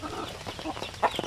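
Clucking from a Basilan native hen with her chicks, a few soft close calls with a brief louder burst near the end, over faint background noise.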